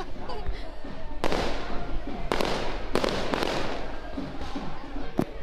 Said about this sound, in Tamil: பட்டாசு சத்தத்தோட வான வேடிக்கையோட இந்த திருவிழா வந்து ரொம்ப சூப்பராக நிகழ்ந்திருந்தது